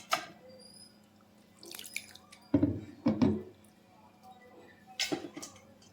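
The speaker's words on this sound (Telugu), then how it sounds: "ఇప్పుడు వాష్ చేసుకున్న పాలకూరని దీనిలోకి యాడ్ చేసుకుందాం" Washed spinach dropped into a mixing bowl while making spinach pakoda: a few soft, wet squishing thuds with light drips, close and fairly quiet, separated by pauses.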